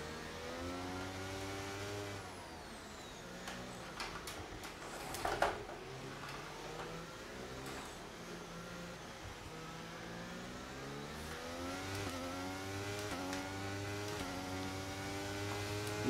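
Formula 1 race car engines in F1 23, a high-pitched engine whine rising and falling as the car accelerates and shifts, with other cars passing faintly in the background, fairly quiet overall.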